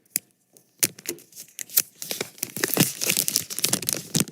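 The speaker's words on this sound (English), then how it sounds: "Listen to the sweet sounds of the plastic unwrap." Plastic film peeled off a new OnePlus Nord phone, close crinkling and tearing in sharp bursts that grow into a busy continuous rustle.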